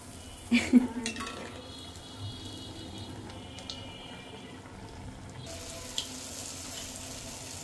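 Oil pitha cakes fry and puff in hot oil, a soft bubbling sizzle under a few sharp clanks of a utensil against the pan near the start.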